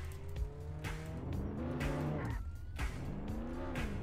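A car in the Roblox game Jailbreak drives with its tires squealing, a steady engine drone with repeated rising and falling squeals that are close and fairly loud throughout.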